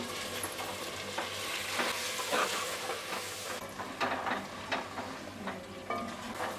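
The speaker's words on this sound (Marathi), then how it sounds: "आता त्यानंतर यामध्ये चवीनुसार मीठ घालूया परतून घेऊया" Spice masala with salt is sautéed in a pan for Koli-style prawn rice, giving a continuous loud sizzle broken by repeated scraping stirs of a spoon against the pan.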